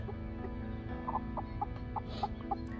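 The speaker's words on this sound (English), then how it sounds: "They should be very happy chickens, I say." Soft, scattered clucks from a few chickens, spaced irregularly over a steady low background hum, fairly near and moderately quiet.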